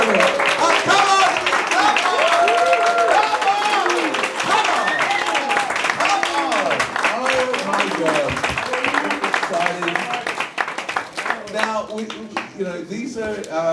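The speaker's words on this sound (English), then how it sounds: "a huge round of applause for your judges this evening" A comedy roast battle show audience in Berlin applauds the judges with sustained, dense clapping for over ten seconds, thinning near the end, while voices and cheering carry over the top.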